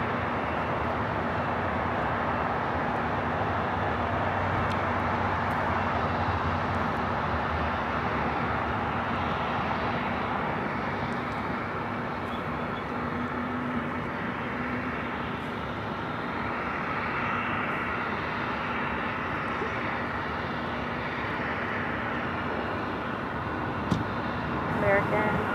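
A jet airliner at Los Angeles LAX airport rumbles steadily for the whole stretch, a broad continuous roar with a faint tonal hum, moderately loud and fairly distant, with no clear rise or fade.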